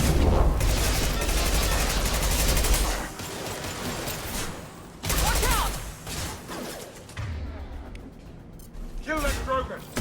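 Heavy sci-fi gunfire in the video game Mass Effect 2, with loud bursts of rapid shots and booming impacts. The shots come in dense clusters, drop briefly and then resume, with a voice talking faintly underneath.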